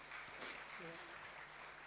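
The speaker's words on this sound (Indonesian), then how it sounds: "tepuk tangan untuk Bu Susan" Talk show audience clapping in a brief burst, moderately loud, with a voice briefly heard over it.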